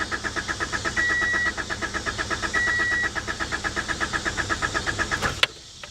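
A 1985 Honda Accord's engine cranks steadily on the starter without catching, a rhythmic chugging churn that runs for over five seconds before stopping with a sharp click.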